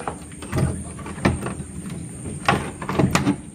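An old factory building's door is pushed open in several heavy scraping, creaking movements with a couple of sharper knocks, moderately close in an echoing space.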